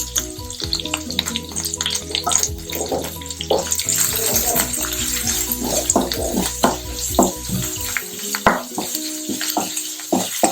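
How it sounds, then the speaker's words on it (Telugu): Grated carrot frying in a pan, a loud crackling sizzle with frequent sharp scraping and stirring clacks throughout, close and dense. "పచ్చివాసన పోయేంత వరకు ఫ్రై చేసుకోవాలి"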